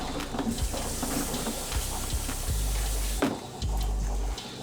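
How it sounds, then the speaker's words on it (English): Hands being washed under a running kitchen tap, a steady broadband rush of water with uneven splashes and brief gaps as the flow is interrupted, close and fairly loud with no talking. "Now I gotta wash my hands."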